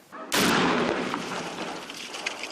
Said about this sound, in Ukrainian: Вправу з підриву виконують із першого разу.